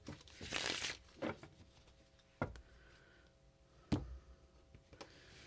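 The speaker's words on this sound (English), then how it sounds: "Just giving these an extremely, really good shuffle together. Because they're 2 separate decks and I want them to just be really, really mashed." Two decks of tarot and oracle cards being shuffled together give soft, intermittent riffling and snapping bursts, close and quiet, with pauses between shuffles.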